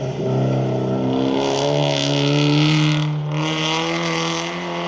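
A Saab 900 rally car drives hard on a forest rally stage, its engine loud and close with a rising then falling harmonic whine as it revs and shifts, holding strong for several seconds without talk.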